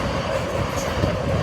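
A single South Western Railway Class 444 electric train runs through Wimbledon station, a steady close rumble of wheels and traction hum with faint rail clatter and no talking.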